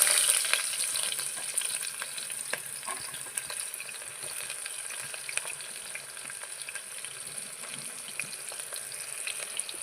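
Chopped onions frying in hot oil with tempering seeds give a dense, crackling sizzle close by, with small pops throughout. The sizzle is loudest at the start and eases slightly afterward.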